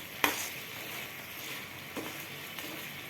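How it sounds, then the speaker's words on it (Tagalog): Pork in soy sauce and oyster sauce sizzles in a pan as it is stirred, a soft, steady frying hiss broken by a few scraping clicks, faint and without talking. "Halo-haloin natin para magpantay yung toyo at saka oyster sauce."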